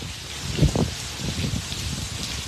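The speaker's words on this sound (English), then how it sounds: "it sounds like we're in a torrential downpour right now" Heavy rain pours down outside a building with no gutters during winter weather, a steady dense hiss of water with a couple of louder splashes near the start, close and continuous with no talk.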